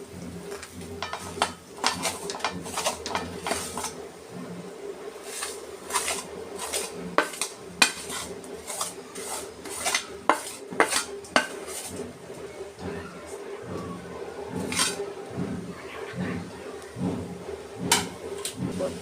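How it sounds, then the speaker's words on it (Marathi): Jaggery being stirred in a pan over a low gas flame for modak filling, with repeated metallic clinks and scrapes of a spoon against the pan at an irregular, close rhythm. "बारीक गॅसवर हलवूया। ह्याच्यात आपण गूळ घालूया।"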